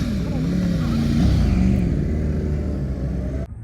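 Racing motorcycles at Cadwell Park circuit give a loud, steady engine drone with rising and falling pitch. The sound is close and continuous, then cuts off abruptly at the end.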